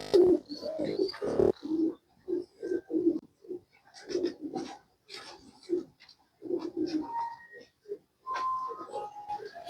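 Teddy pigeons cooing in soft, repeated low coos close by, with a few higher chirps scattered through the clip and brief gaps between the calls; no one speaks.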